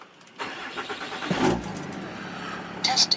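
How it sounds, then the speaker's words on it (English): A diesel pickup truck fitted with an Edge CTS3 Insight monitor starts up quickly after a key turn, with a brief crank catching into a steady idle, and a few beeps follow. "I'm gonna go ahead and start the truck up so that way you guys can see how fast this bad boy boots up"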